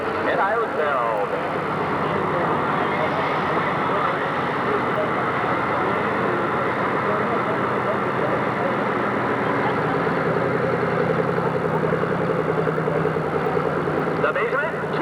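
A 10,000 lb Pro Stock pulling tractor, a new machine on its first hook at a 1997 Urbana, Ohio pull, roars down the track in a loud, steady, unbroken engine drone, with an announcer talking over it.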